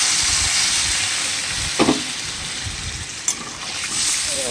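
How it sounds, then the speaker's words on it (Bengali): Steady hissing sizzle as water hits a pan of cooking curry, with a couple of brief clinks partway through and the steam noise continuing throughout. "এই দেখো এখানে আমি জল দিয়ে দিলাম"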